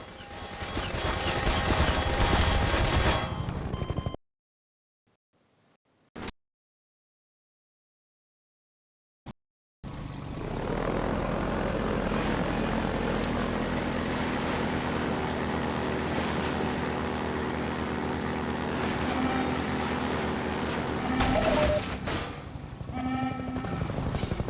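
Helicopter bombing run in Half-Life 2: a loud roaring, churning barrage of blasts and rumble, cut by a few seconds of near silence with isolated thuds, then resuming as a sustained heavy roar.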